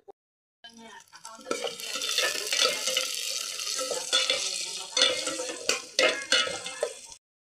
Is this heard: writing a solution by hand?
no